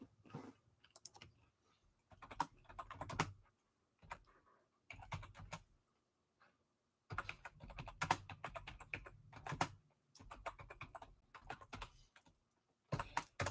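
Typing on a computer keyboard, quiet and close, comes in bursts of rapid clicking keystrokes separated by short silent pauses.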